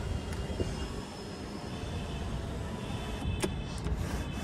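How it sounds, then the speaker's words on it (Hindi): The electric sunroof of an Audi Q2 opens with a steady motorized whir inside the cabin, ending in a few sharp clicks and knocks as it stops. "देख सकते हैं कुछ ऐसा आपका सनरूफ ओपन होगा,"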